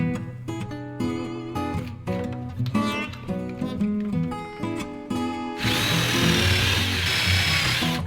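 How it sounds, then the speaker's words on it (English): A power drill bores a couple of holes in zinc-plated steel for a cargo D-ring tie-down upgrade on a 1984-2001 Jeep Cherokee XJ, with short bursts of drilling and a sustained run near the end; music plays underneath. "A couple holes are drilled out."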